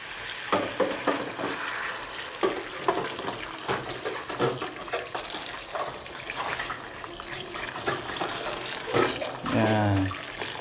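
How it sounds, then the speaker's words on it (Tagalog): Water poured into a cooking pot of pork caldereta with tomato paste, a steady splashing pour running under a person talking throughout. "Lagyan natin ng tubig."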